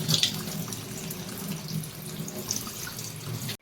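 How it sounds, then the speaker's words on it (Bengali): Rice being rinsed lightly under a running kitchen tap, a soft, steady stream of water with faint splashing, heard close but quietly. "জাস্ট হালকা করে ধুয়ে নিচ্ছি"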